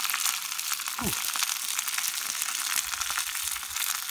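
Garlic sizzling in a hot cast iron pan set over glowing coals outdoors, a steady bright crackle and hiss throughout with a brief clunk of the pan near the start.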